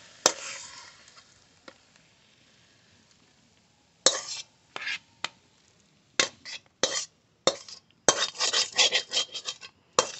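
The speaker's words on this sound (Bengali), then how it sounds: "এই থালাটায় মাছ ভাজা ছিল, এই থালায় নামাচ্ছি।" Plates and utensils clink in sharp bursts as a cabbage and katla fish head ghonto is served from the pan onto a plate, with quiet gaps between clusters of clatter near the end.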